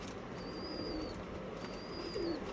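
Andhra Fulsira pigeons in a loft give soft, low cooing with a faint higher chirp, steady and near over constant background hiss.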